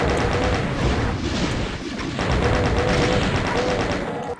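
Rapid chaingunner fire in Doom 2, a steady stream of loud shots running almost unbroken from start to finish.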